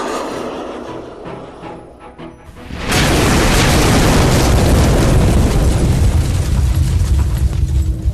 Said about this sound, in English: that was an incredible explosion